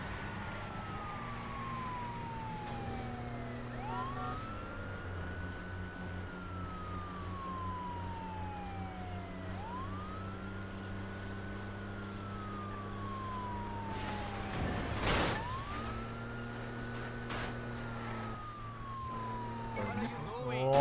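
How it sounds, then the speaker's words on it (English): A police siren keeps wailing in the Wheelman video game, rising and falling in slow repeated sweeps over a steady engine drone, with a sharp burst of noise partway through. "I like how my siren's still going, despite the fact that my lights appear to be broken."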